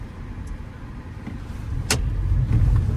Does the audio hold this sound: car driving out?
yes